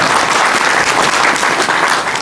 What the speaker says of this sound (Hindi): ताली लगाओ बाबा के लिए